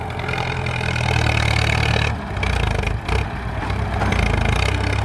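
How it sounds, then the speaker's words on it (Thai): A Ford farm tractor engine runs at a steady, low chugging idle, close by, with a brief dip in the middle before it carries on. "มัน เป็นรุ่นในตำนานเลยนะครับเนี่ยรถไถฟอร์ดเนี่ย"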